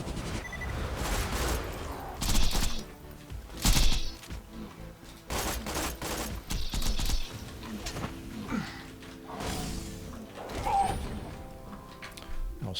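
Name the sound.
grenade thrown in Borderlands 3 video game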